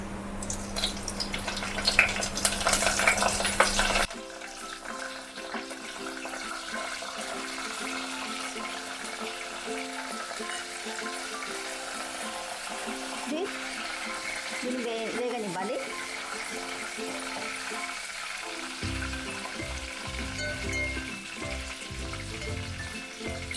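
Cumin seeds and dried red chilies crackle in hot oil with a loud hiss at first, then settle into a softer, steady sizzle with faint scrapes and a few louder pops.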